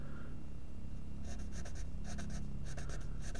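A pencil sketches the lines of a pistol on paper, making short scratchy strokes in quick bursts that follow one after another, faint and close with no voices.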